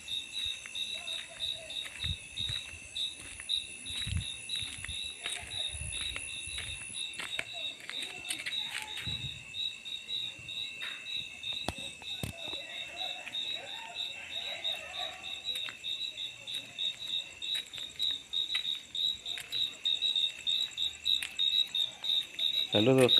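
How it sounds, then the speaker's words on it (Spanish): Crickets chirping at night in La Huasteca Potosina, Axtla de Terrazas, a steady high trilling chorus that runs throughout and grows slightly louder, with faint scattered clicks and distant sounds beneath. "me muevo y se calla un grillo"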